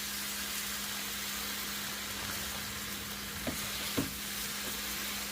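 Sliced pre-cut ham frying on a Blackstone griddle gives a steady, even sizzle with a constant low hum underneath and a couple of brief clicks partway through, and no talking.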